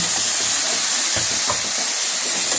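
Drumstick (moringa) pieces go into a hot pan with spiced masala, setting off a steady broadband sizzle and fry hiss that runs throughout, with a few soft stirring knocks and no talk.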